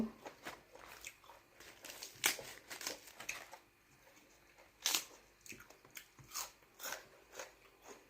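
Wrapped giant octopus tentacles being eaten: close, quiet crunchy bites and chewing with irregular clicks and smacks, repeated through the clip without speech.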